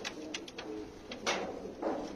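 Pigeons kept for sale as hunting birds coo softly in a few short, rolling calls over a steady background hum, close by and with no voices.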